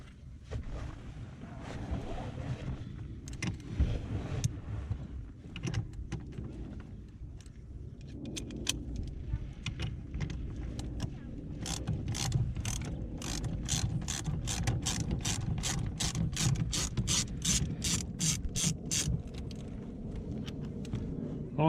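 A hand ratchet backing out the steering wheel bolt on a Jeep: scattered clicks at first, then a fast, steady run of sharp pawl clicks building through the second half, close and clear over low background rumble.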